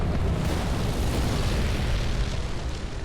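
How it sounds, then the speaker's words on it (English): An airstrike detonates in Fallout: New Vegas, a dense, sustained rumbling blast with heavy low-end roar that stays loud and steady throughout, no voices over it. "That's what I call an airstrike"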